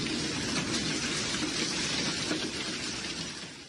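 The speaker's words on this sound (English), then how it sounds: "record as the hail pelted her home" Large hail pelts a house during a storm in North Texas, a dense, steady drumming of impacts that stays loud throughout and eases slightly toward the end, with no voices.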